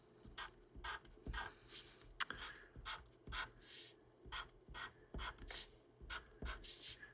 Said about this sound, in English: So I'm just gonna draw a bunch of lines down here.